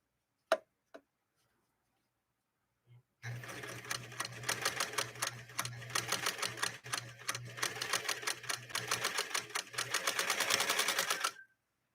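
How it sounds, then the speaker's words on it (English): A Spartan sewing machine with a larger motor stitches through six layers of heavy-grade denim, a few clicks and then a rapid, steady mechanical chatter of needle strokes running for several seconds before stopping. "6 layers of heavy grade denim."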